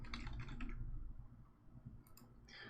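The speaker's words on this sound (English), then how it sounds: "Turns out typing and reaching around a microphone at odd angles for your keyboard, it's a little tricky." Quick bursts of typing on a computer keyboard sound close and soft in a quiet room, a cluster of clicky keystrokes at first, then a pause, then a few more taps near the end.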